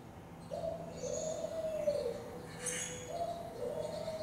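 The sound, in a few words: African collared dove song recording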